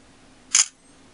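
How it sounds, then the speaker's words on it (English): A single quick, crisp shutter click from the camera of a Motorola Droid Razr Android phone, short and close against a quiet background. "That's a pretty quick shutter release."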